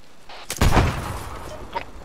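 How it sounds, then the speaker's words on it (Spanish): A loud blast bursts out in ArmA 3, then a rumbling roar trails off beneath fainter sharp pops and crackles, like a game explosion. "Cuidado con las explosiones."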